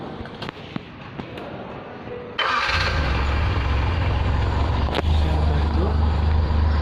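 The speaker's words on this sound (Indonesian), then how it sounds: "kita hidupkan mesin" A car engine cranks and catches partway through during a tune-up with the battery and main coil being checked, then settles into a loud, steady idle close by after a few faint clicks and taps.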